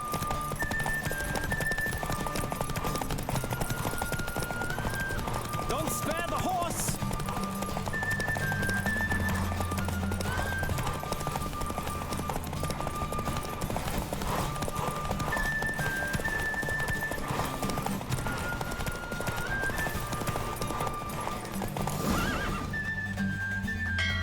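A horse in The Witcher 3 gallops with steady rapid clip-clop hoofbeats and loud neighs, over a continuous bed of game music and ambience.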